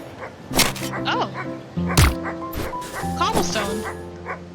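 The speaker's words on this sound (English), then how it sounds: "This anxious little dog attempts frantically to get a town guard's attention" Anxious little dog in the game Wytchwood yipping and barking in quick frantic bursts, with high whimpering tones between, close and fairly loud.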